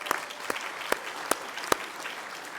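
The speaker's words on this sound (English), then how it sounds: "I'd like to give them a special clap." A church congregation gives a short round of applause, sparse individual claps standing out at a steady rhythm over a soft background of clapping, moderately near.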